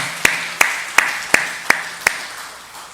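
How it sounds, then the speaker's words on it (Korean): Six sharp, evenly spaced claps ring out during a church worship service, crisp and close with a slight ringing tail, then fade into quiet. "하나님께 영광의 박수 올려드리겠습니다"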